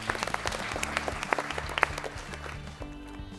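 Audience applause for a quiz team at a grand finale quiz event, steady dense clapping from a crowd throughout, fairly loud and continuous with a few sharper individual claps standing out.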